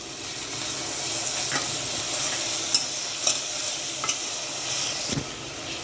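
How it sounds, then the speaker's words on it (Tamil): Tomatoes sauté in a pan for a rasam one-pot dish, giving a soft, continuous sizzle. Scattered sharp clicks and scrapes of stirring come through it, quiet and close, with no talking. "இப்போ இதோட நான் வந்து தக்காளியை சேர்த்துக்கிறேன்"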